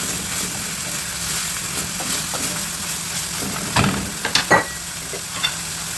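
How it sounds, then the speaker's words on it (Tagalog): Vegetables sauté in a pan for pancit guisado, giving a steady, even sizzle throughout with a few louder scraping stirs near the end and no talking. "so igigisa muna natin yung vegetable niya"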